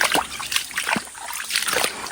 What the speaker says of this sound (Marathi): पाण्याचा पाट आहे हा